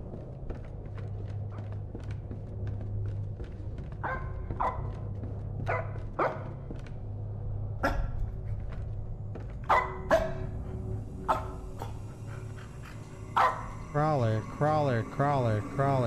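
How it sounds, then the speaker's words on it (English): In a horror video game, a dog barks in a series of sharp, separate yelps spread across the scene, mostly distinct, with a background hum and a person talking over parts of it. "Wait, I thought the dog was down here."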